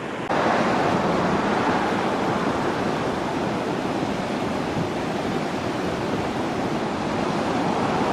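Ocean surf rolls in along the Galveston seawall beach, a loud, broad, continuous wash of breaking waves with some wind buffeting the microphone.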